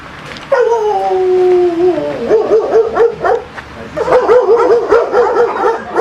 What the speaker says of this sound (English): This one is a German Shepherd.